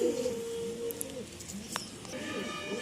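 Several pigeons of various fancy breeds, a green Malbai among them, coo softly and continuously in the background of a home loft, with faint clicks and a low steady hum.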